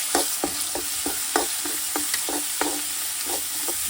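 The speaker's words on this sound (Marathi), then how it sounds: "वाटण परतून घेऊ." A ground paste of onion, ginger, garlic and peanuts sautés in a pan with a bright, continuous sizzle, broken by about a dozen rhythmic stirring scrapes close by.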